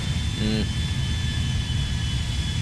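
A Boeing 777-300ER jet engine in GTA V drones steadily at an airport, a constant loud roar with a high whine running throughout and a brief tonal blip near the start.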